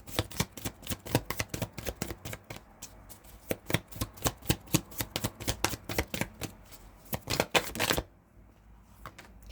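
Tarot cards shuffled by hand in a rapid run of crisp, close riffling flicks for about eight seconds, then stopping and leaving near silence; no one speaks.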